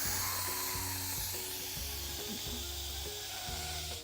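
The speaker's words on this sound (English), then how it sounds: "we're gonna turn it to quick release, which is turning it to venting so all the steam will come out" Steam hisses steadily from an Instant Pot's pressure valve during a quick release while mac and cheese cooks, a loud continuous rush that lasts the whole stretch with a low rhythmic hum pulsing beneath it.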